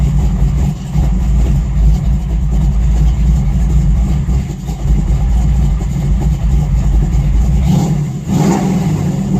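A 1953 Ford F100 pickup with a 454 V8 runs steadily close by, its loud, deep rumble continuous throughout with a slight dip midway and a brief blip late on.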